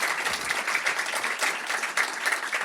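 Audience applause at a sailing event presentation, a steady dense wash of many hands clapping together for a skipper preparing for the Route du Rhum in Class 40, continuous and evenly loud throughout.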